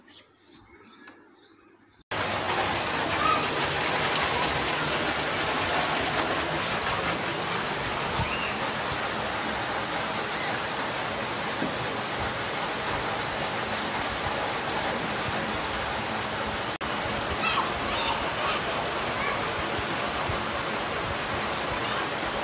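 Steady rain pours down as a dense, continuous hiss after a brief quieter opening, loud and unbroken throughout with no voices.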